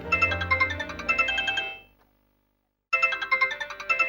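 A phone ringtone plays a bright, chiming melody, stops for about a second of silence, then starts ringing again.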